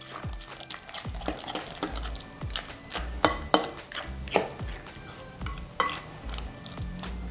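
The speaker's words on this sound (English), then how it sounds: "Mix that up, softened butter into the potatoes." Softened butter being mixed into mashed sweet potatoes for a pie, with irregular clacks and taps of a utensil against a bowl and soft squishy stirring in between, close and fairly quiet.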